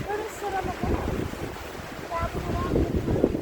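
Wind gusts and blusters outdoors by water, a steady rumbling roar of microphone buffeting that runs throughout, with people talking over it.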